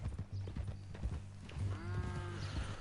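Horse hooves clip-clopping on the ground in Red Dead Redemption 2, a steady close rhythm of soft thuds under a low hum, with a brief whinny-like tone near the end.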